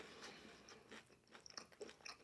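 Crunchy coconut shrimp heavily coated in coconut shreds being bitten and chewed close up, quiet irregular crunches over faint background noise.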